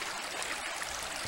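Stream water along a hiking trail rushes and splashes in a steady, broadband wash, close and continuous, with no talk.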